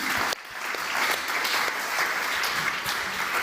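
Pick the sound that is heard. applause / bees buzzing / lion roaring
applause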